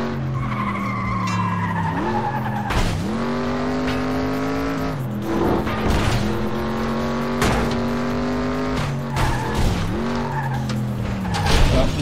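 Prolonged tire skidding and screeching from a racing car in the FlatOut 2 video game, with sliding harmonic squeals bending up and down over a steady engine drone and several sharp impacts throughout.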